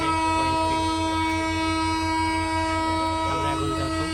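A passenger train departs from Kamalapur railway station with a steady, loud, tonal rumble and whine from the engine or horn, along with rhythmic low mechanical pulsing from the moving cars, heard up close with no talking.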